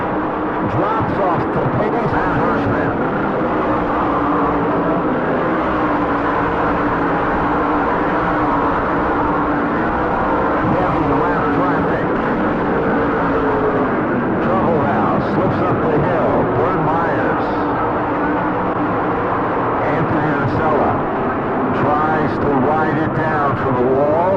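Tour-type modified race cars lap the New Smyrna track, engines roaring and droning continuously under a commentator's steady talk, loud with no breaks.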